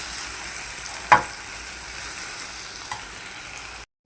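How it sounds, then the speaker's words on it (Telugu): Coriander leaves frying in oil with cumin and garlic for a tomato coriander pickle, giving a steady, even sizzle marked by a couple of sharp spoon scrapes. The sound cuts off abruptly at the very end. "కొత్తిమీర వేయించేసుకోవాలంటే కొంచెం జీలకర్ర, వెల్లుల్లిపాయలు"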